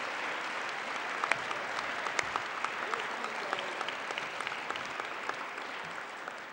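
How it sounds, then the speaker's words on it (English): Steady applause from a crowd fills the space, dense clapping with scattered sharper claps standing out, fairly distant and sustained throughout. "One more big round of applause for Trey and all our wrestlers and coaches."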